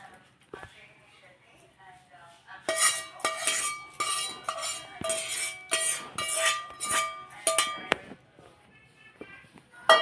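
A metal spoon scrapes and clinks against a pan while oil, ginger and garlic are mixed for a Telugu chutney, with busy rhythmic clattering strokes in the middle, close and fairly loud, with a voice talking at the start.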